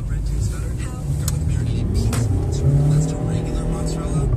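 A car engine revs hard while stuck in a snowstorm on a highway, droning steadily and loudly throughout with tire noise, while a person talks over it.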